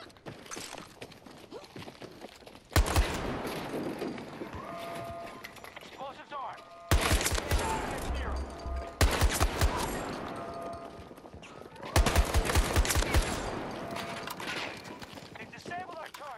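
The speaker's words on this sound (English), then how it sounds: "You shooting at me, bro?" Gunfire in Battlefield 2042, a shotgun rush match: bursts of loud, rapid shots in several clusters separated by quieter stretches, with voices under the action.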